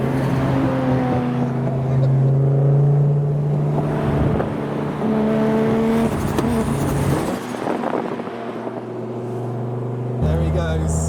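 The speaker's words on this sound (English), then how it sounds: "looks like we've got an S14 now coming up beside us" A Nissan S14 drives alongside a 90s car on a road, its engine droning with shifting pitch across several gear changes, close and loud with the cabin's own engine noise beneath it.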